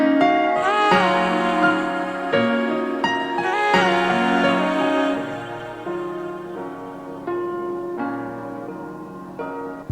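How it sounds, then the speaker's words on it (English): A half-time piano beat melody with convolver reverb plays sustained, washy chords and a transition passage, dense and full, alone without any voice, swelling then thinning slightly toward the end. "So the melody altogether will sound like this with the transition."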